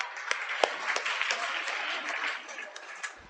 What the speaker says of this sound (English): Everyone, please a huge round of applause for him.